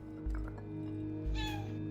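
Pet cat Momo meowing inside the video game Stray, two short soft meows roughly a second apart over a steady low game hum, fairly quiet and close.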